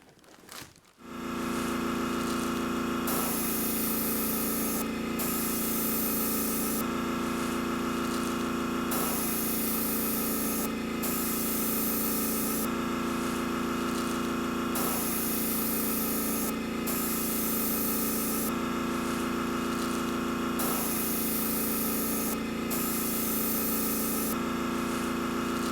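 An airbrush or spray gun paints a 1/100 scale Estes Saturn V model rocket, a continuous close hiss over a compressor hum, with the spray trigger cutting in and out in regular bursts of a few seconds each.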